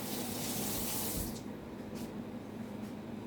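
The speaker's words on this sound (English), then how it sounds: "Wash my hands." Hands being washed under a running kitchen tap: a loud, steady stream of water splashing into the sink for about a second, then a quieter trickle with light splashes, no talk.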